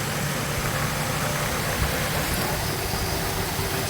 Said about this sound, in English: the engine runs real good without them